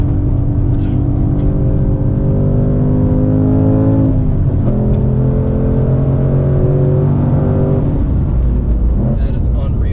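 A 2024 Ford Mustang Dark Horse with a Tremec manual gearbox revs hard on a racetrack, climbing through the gears with a drop in revs at each shift, loud and close from inside the car as occupants talk over it.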